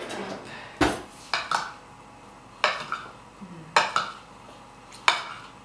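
A spoon stirs raw apple berry crisp with cinnamon and vanilla in a small bowl, giving about half a dozen sharp, close clinks against the bowl in uneven bursts over a quiet background.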